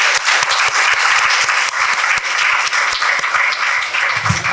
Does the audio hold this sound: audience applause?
yes